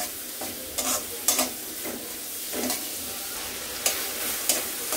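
Onions and tomatoes frying for mung dal bhuna, a steady close sizzle broken by repeated spoon-stirring scrapes at an uneven pace, with no voices.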